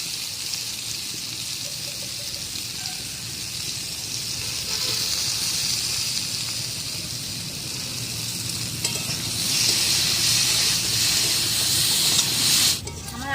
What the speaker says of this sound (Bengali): আলু আর কলাটা ভাজা হয়ে গেছে